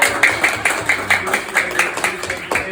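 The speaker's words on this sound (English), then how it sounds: "So let's clap it up for Brett." Elementary-school audience at a career day clapping in a steady, even rhythm, loud and close, a unison beat of hand claps about four per second with light voices underneath.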